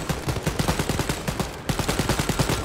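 Rapid automatic gunfire in the shooter game Wolfenstein: Youngblood, loud close bursts of evenly spaced shots in two runs split by a brief pause, with no talk.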